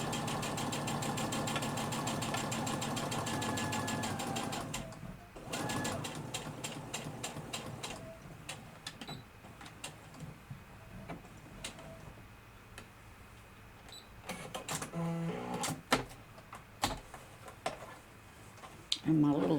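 A sewing machine back stitches a quarter-inch quilt seam joining nine patch blocks. Its motor gives a steady whirring hum for about five seconds, then quieter clicks and handling sounds follow, with a voice talking at times.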